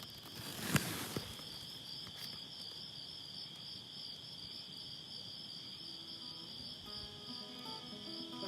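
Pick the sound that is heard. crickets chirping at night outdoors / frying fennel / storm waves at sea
crickets chirping at night outdoors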